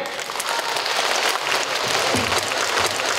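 Schoolchildren at a tiger training show clap in a dense burst of applause that runs steadily across the whole moment, with a faint murmur of voices underneath.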